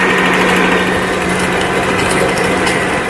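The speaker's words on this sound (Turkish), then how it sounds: "Böyle köpük köpük olana kadar çırpıyorum. Daha doğrusu makine çırpıyor." An electric hand mixer whisks sugar until foamy, giving a loud, close, continuous high-pitched motor whir that holds steady throughout.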